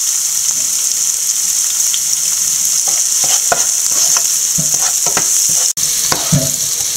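Onion, green chili, carrot and ginger sauté in hot oil for aval upma, a steady close sizzle broken by spoon scrapes and stirring clatters.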